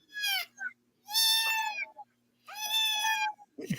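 A domestic cat gives three drawn-out, close and loud meows separated by short silences, each rising and falling, with a brief extra noise at the very end.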